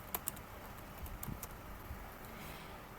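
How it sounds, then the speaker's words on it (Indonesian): A name being typed on a computer keyboard during a GNU/Linux command-line exercise; a few faint, scattered key clicks in a quiet room, with no talking. "saya akan mencoba dengan mengetik nama saya sendiri."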